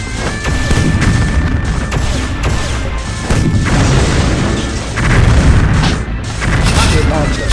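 Super grenade blasts in Metal Slug 3D, a run of loud booming explosions and crashes following one another with brief dips between, heavy and close.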